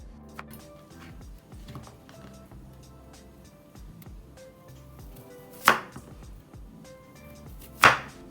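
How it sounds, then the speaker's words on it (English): A knife dicing peeled yam bean into small cubes on a cutting board for a Thai red rubies dessert, with soft uneven taps throughout and two sharp, louder chops near the end. "we're gonna peel the skin of the yam bean and dicing it into small cubes."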